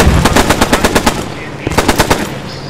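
Machine gun fire in the Post Scriptum war shooter: a rapid, loud burst of evenly spaced shots, a short pause, then a second shorter burst, close and harsh with no talk.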